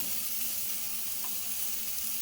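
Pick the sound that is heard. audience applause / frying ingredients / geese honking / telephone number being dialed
frying ingredients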